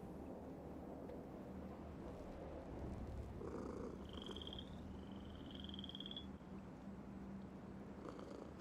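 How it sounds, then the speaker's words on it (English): A cat purrs in a steady low rumble close by, continuous for several seconds, with a faint high electronic tone briefly sounding in the background. "It has the sound of purring."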